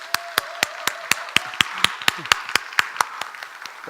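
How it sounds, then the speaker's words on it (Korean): A church congregation at a Sunday worship service claps in a steady, evenly spaced rhythm, sharp crisp hand claps close by, with faint voices murmuring underneath. "우리 한번 감사와 축복의 박수 한번 하겠습니다"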